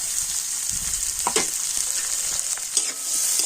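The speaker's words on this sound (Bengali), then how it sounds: "তো প্রথমে আমি তেলের মধ্যে দিয়ে দেব রসুন কুচনো দিয়ে দিচ্ছি আদা কুচনো দিয়ে দিচ্ছি" Garlic, ginger and onion, all chopped, fry in hot oil with a steady close hiss and crackle, broken by a few sharper spatters and stirring scrapes.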